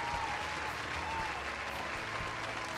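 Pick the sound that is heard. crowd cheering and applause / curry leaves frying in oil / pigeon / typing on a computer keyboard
crowd cheering and applause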